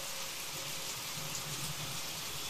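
Heavy rain pours down outdoors as a dense, even wash of hiss, fairly quiet and unbroken throughout, with no voices.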